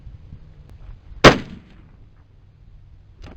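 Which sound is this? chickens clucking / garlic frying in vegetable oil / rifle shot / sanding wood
rifle shot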